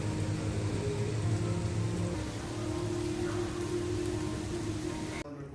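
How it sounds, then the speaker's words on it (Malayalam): Heavy rain pours steadily outside, a dense continuous hiss of drops on surfaces with a low hum underneath, then cuts off abruptly at the very end. "പുറത്ത് നല്ല മഴയുണ്ട്"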